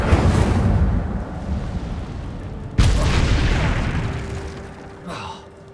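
An Incendio fire spell is cast in the Hogwarts Legacy video game, producing a deep rumbling boom that swells again in a second sharp burst before fading away.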